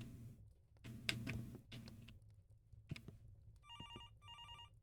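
Telephone in the video game Moral Dilemma 2 ringing as two short bursts of bright electronic trills near the end, after some quiet clicks and knocks, with no talking.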